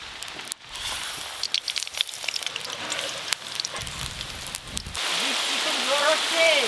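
Heavy monsoon rain pours down in a constant, dense hiss that swells louder toward the end, while a voice talks over it.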